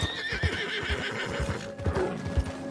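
A horse in the video game Red Dead Redemption 2 whinnies in a drawn-out neigh over rhythmic clip-clop hoofbeats, close and clear.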